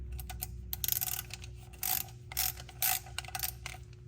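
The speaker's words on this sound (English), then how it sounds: "we're gonna take these 8mm bolts off the inspection cover here" A ratchet clicks rapidly and rhythmically, loosening 8mm bolts from a truck transmission inspection cover during a G56 swap, with several louder bursts of turning, close up over a low steady hum.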